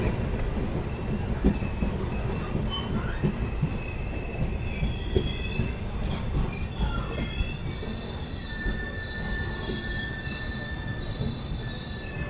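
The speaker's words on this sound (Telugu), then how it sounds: "ఇప్పుడే బిట్రగుంట నుంచి అయితే ట్రైన్ అయితే బయలుదేరుతుంది" Nanded–Tiruchirappalli Special Express pulling out of Bitragunta station, a steady, loud rumble of coaches rolling past up close with recurring high wheel squeals and faint clacking, no voices.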